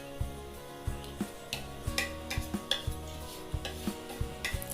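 Masala papad roasts on a hot tawa while being pressed down, giving soft, irregular ticks and crackles over a low steady hum, fairly quiet.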